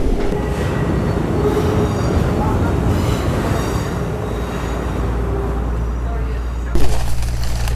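A Long Island Rail Road train departing, rumbling along the rails with a steady roar and faint wheel squeal, a sharp clunk near the end, voices murmuring underneath.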